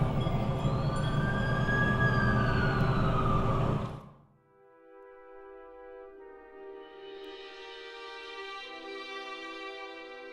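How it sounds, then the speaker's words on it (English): An ambulance siren in The Amazing Spider-Man 2 video game wails loudly in rising and falling sweeps, then cuts off abruptly as a soft layered musical tone takes over. "That's the ambulance I called."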